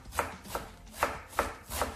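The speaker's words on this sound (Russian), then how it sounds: "и нарезаем мелко" A knife chops food finely on a cutting board while a dish in the style of cabbage rolls is prepared: five crisp, evenly spaced strikes over two seconds, close and clear with no talking.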